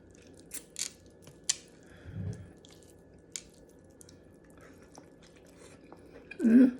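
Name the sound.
chewing while eating pork adobo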